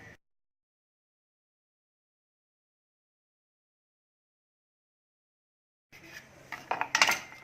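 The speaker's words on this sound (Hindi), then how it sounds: "अब इसके पीसेस काट लेंगे, स्क्वायर पीसेस में काटना है इसको।" A knife clatters and taps against a board while cutting rolled shakarpara dough into square pieces, a short burst of close clinking and scraping after a long stretch of silence.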